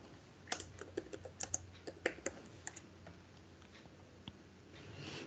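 Computer keyboard keys being typed while entering code, a quick uneven run of crisp clicks for about four seconds that thins out near the end, close and fairly quiet with no voice.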